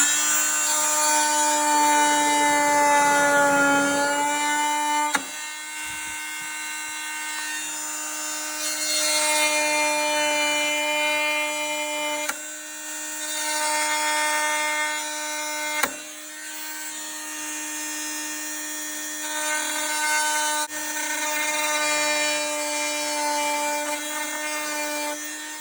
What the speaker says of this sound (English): we have a multi-tool here, and this is fantastic for cutting the trim profile